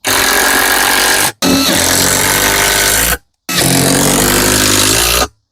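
Power tool driving screws into the bottom side of a homemade archery target frame: three loud, close, sustained whirring bursts of one to two seconds each, separated by short silent gaps.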